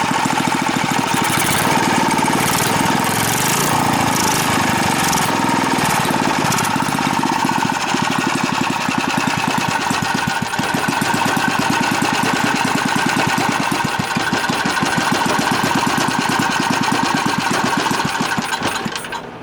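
An old small engine, one of three that were handed down, runs steadily and loud from start to finish with a fast, regular knocking pulse and no talk over it.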